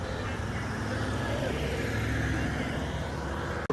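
A big Dodge in a classic car cavalcade drives by with a steady engine rumble and road noise, fairly close and continuous, ending with a brief knock.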